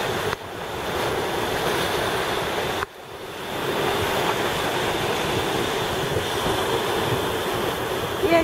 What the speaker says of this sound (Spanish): Y hay unas olas un poco embravecidas.